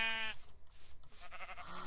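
Sheep in Minecraft bleat in a short run of several quick, tonal calls, close and clear with brief gaps between them and no talk.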